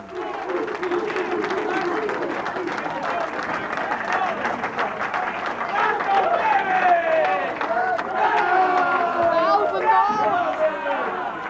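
Crowd noise at a candlepin bowling match, a steady busy murmur of chatter with scattered clapping and cheering that swells in the second half, dense and fairly close throughout.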